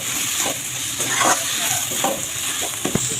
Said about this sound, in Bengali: টমেটোটা আমি কষাবো মশলার সাথে।